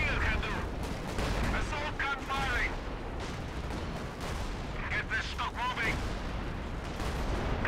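Artillery and gunfire boom through Company of Heroes 2 battle gameplay in repeated blasts and crackling volleys, with players talking over the fighting.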